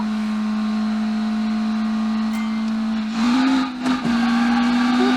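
A 1990s supercar in the Automation car game, its engine droning at a steady high pitch on a track, with a brief surge and dip as it shifts or decelerates before settling back to a constant loud tone.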